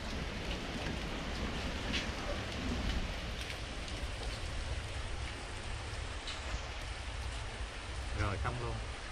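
Heavy storm rain drums down steadily on surfaces in Saigon, a dense, continuous hiss with a faint distant rumble of thunder, while brief bits of voices come through near the end.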